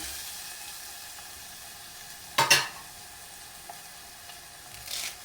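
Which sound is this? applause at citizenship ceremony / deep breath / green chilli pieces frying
green chilli pieces frying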